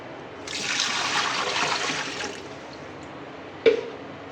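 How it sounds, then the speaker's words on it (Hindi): Water poured into a pot for goat head curry: a steady rushing pour lasting about two seconds, then quiet, then a single sharp clank of the pot. "इसमें जाएगा पानी"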